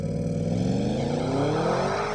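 A 2023 Audi S8 launching from a standstill, its engine roaring loud and close as the pitch climbs steadily under hard acceleration, with a continuous rising drone and no talking.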